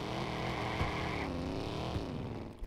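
A car engine in the video game Watch Dogs revs loudly and steadily for about three seconds, a dense rising and falling roar with no talk over it.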